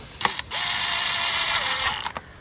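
A power tool whirs steadily for about a second and a half, close up, as cam cover bolts are run home on a Mk6 Golf GTI engine, with short ratchety clicks before and after.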